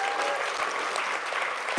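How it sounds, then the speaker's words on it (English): A short burst of applause at a startup awards ceremony as a tech startup's win is announced, a dense, loud crowd clapping that carries evenly through the moment. "please give a big round of applause for the winner of the South African Consumer Tech Startup of the Year"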